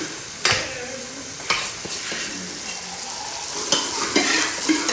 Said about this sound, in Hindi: इधर ये हमारा तड़का रेडी हो गया है।